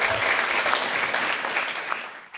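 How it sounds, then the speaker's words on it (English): Audience applause for a student's correct answer at a Zionism seminar, a steady burst of dense clapping from a room of listeners that runs the whole moment at even strength before tapering. "Gigi, round of applause"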